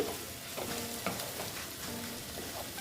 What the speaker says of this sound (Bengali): যদিও কষানোটা খুব ভালো হয়েছে আর একটু কষিয়ে নিচ্ছি